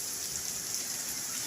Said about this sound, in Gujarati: ચલાળાની અંદર પવન સાથે 15 મિનિટ ચાલુ થઈ ગયો છે ભાઈ વરસાદ